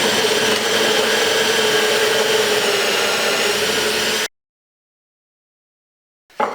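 A power drill bores bolt holes into wood on a workbench for a wooden kayak build, a loud steady whine for about four seconds before stopping, followed by silence and a brief restart.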